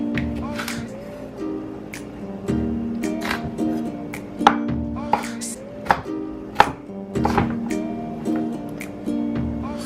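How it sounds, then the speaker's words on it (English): Knife chopping jalapenos on a cutting board, rapid uneven knocks and taps close up, with a steady low hum underneath. "And chop them."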